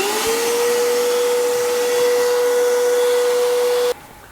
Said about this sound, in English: Now I just want to vacuum off and get all that stuff out of there.